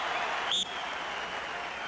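Crowd noise at the 1986 NCAA Wrestling Championships in Iowa City, a steady broad roar of cheering and applause with one brief whistle-like rise near the start.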